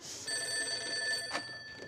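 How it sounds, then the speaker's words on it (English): A telephone rings steadily for about two seconds in a cartoon episode, a sustained bell tone heard alone without any talking. "I'll get the phone."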